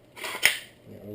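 PTR 91 rifle bolt pulled back and locked, a single quick metallic clack with a brief scrape, close and fairly soft.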